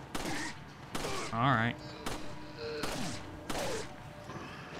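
Video-game gunfire in Resident Evil 4 comes as a few sharp, separate shots spaced about a second apart, mixed with other game sounds, and someone speaks briefly.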